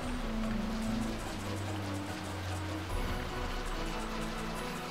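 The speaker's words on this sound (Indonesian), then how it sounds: "Masih hujan ini." Steady rain in the video game Final Fantasy 12, a continuous hissing wash at even loudness, with low tonal game music humming underneath throughout.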